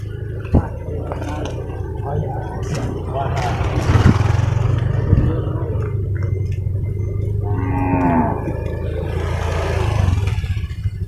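Cattle low with drawn-out moos at a Purwakarta livestock market, heard against steady crowd murmur and engine rumble; a couple of long calls stand out in the middle, and people talk throughout.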